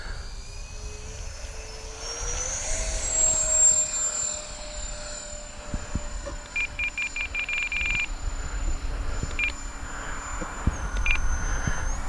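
An X-Fly J-65 radio-controlled model business jet flying, its turbine whine rising in pitch and holding a steady high tone, with faint beeps in the background.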